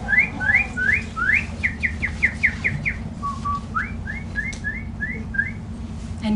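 Canaries sing in clear, bright whistled trills, rapid repeated chirping phrases in two bursts separated by a brief pause, close and distinct over a low steady background rumble.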